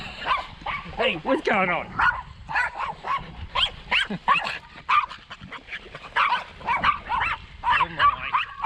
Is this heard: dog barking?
yes